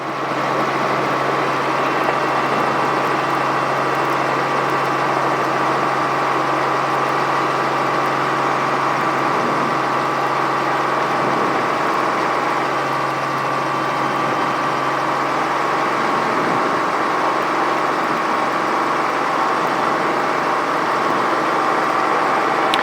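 A Robinson R44 helicopter engine idles on an airport ramp, a steady, loud mechanical drone with a low constant hum that holds unchanged for over twenty seconds, with no voices.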